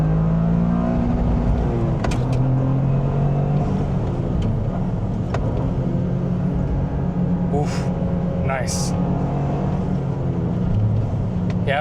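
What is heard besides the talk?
Toyota GR Corolla three-cylinder turbo engine revving to redline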